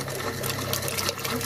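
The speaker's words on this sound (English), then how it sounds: "now I'm going to go ahead and run a little bit of water through the faucets" Water runs steadily from a faucet in an Arctic Fox truck camper into a cup, a close, continuous splashing rush over a low, even hum like the camper's water pump, with no talking.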